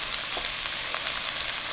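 Shrimp fried rice sizzling in a hot pan, a steady close frying hiss with small crackling pops throughout.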